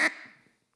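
Single short, sharp quack from a duck call imitating a mallard hen, loud and close, fading quickly into silence.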